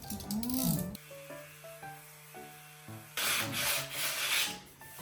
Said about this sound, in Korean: 사포질을 해줄게요.